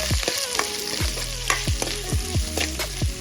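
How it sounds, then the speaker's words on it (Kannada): Onions frying in a pan for a dry chicken pepper dish, a steady close sizzle broken by repeated sharp scraping strokes of a spoon stirring, with no voices. "ಒಂದೆರಡು ಈರುಳ್ಳಿ. ಇದೆಲ್ಲ ಚೆನ್ನಾಗಿ ಫ್ರೈ ಆಗಬೇಕು."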